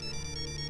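A mobile phone rings with a father's incoming call, playing a loud, continuous electronic ringtone melody close by with no voices.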